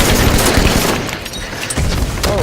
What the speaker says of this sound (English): throwing a grenade to make a dash for his life right now